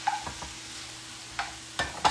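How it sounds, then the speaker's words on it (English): Radishes and garlic scapes sautéing in butter in a pan, a soft steady sizzle broken by a few sharp scraping stirs, close and alone without speech. "saute them this way with butter, because butter is delicious"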